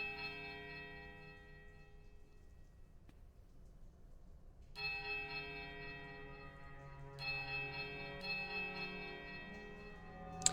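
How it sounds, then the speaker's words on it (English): Large iron bells in the game Pillars of Eternity toll, each strike ringing out loud with a long shimmering decay; a quieter stretch comes first, then two or three heavy, dissonant tolls. "a sudden dissonant toll sounds from the bells so loud and piercing"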